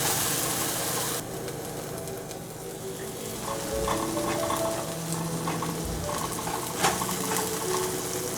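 Onion sizzles and fries in a pan with Goan balchao masala, a steady close crackle with occasional stirring clinks, no voices.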